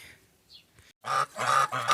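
A domestic goose gives two loud, harsh honks close by, preceded by a brief faint squeak and a short silence.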